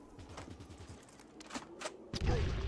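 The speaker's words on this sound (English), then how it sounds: "Oh, I'm throwing grenades, that's why." Grenades go off in a Fallout video game: a rapid string of small popping bursts is followed by a louder, deeper blast near the end, all fairly quiet in the mix.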